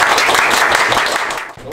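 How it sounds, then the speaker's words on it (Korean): Applause from a small group celebrating two workers who finished building out a new shop, dense continuous clapping that stays fairly loud throughout and fades slightly near the end. "두 분한테 박수 한번."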